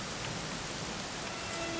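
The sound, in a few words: rain falling in the video game Dragon Quest XI S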